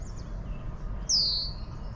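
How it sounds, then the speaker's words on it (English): A red-winged blackbird calls once at Leslie Spit before sunrise, a single bright, clear whistle rising over steady low wind and ambient rumble. "red-winged blackbird, the ones that attack you if you get close to their nest"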